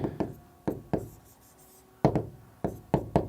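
Letters are written on a board during an Urdu Tajweed lesson on Arabic pronunciation, heard as crisp, close tapping strokes in uneven bursts, with short gaps between them.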